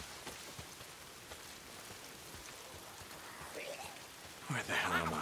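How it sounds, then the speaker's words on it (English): Rain falls steadily in the video game Days Gone, a soft continuous patter of drops on surfaces, and a voice breaks in near the end. "If it's not the freaks, it's the goddamn rain. Why"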